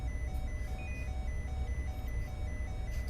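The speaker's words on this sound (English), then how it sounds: "So that's the alarm going off." A master alarm sounds in the VR space game Interkosmos 2000, a repeating electronic beep pulsing at an even rhythm over a low steady hum, with no speech.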